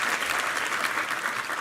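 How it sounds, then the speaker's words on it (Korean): A church congregation applauds the choir after a hymn during a Sunday service, a steady dense wash of many hands clapping at moderate distance, continuous throughout with no voices. "우리 성가대 한번 힘찬 격려 박수 부탁합니다."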